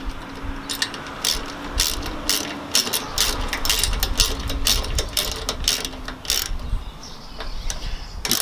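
A ratchet with a 10 mm six-point socket tightens bolts while a trimmer rack is installed, giving quick bursts of close, dry clicking repeated throughout over a low hum.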